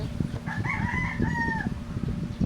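A large torotot noisemaker horn gives one sustained, wavering blast of about a second, bright and nasal, standing out over background hubbub.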